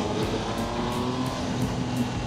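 A 2025 Triumph Tiger Sport 800 motorcycle engine hums loudly and steadily as the throttle is opened a little more, a close, even drone with slight rises in pitch and no speech.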